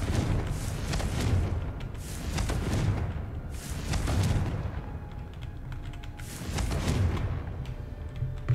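Repeated Confringo fire spell blasts in the Hogwarts Legacy video game, a series of loud booming explosions with rumbling low-end bursts at roughly one-second intervals, no talking.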